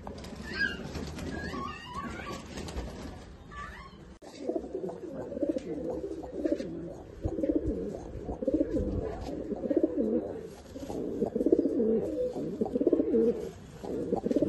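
Madras pigeons coo close by in steady, overlapping low murmurs, with a brief rustle of wings near the start and no talking.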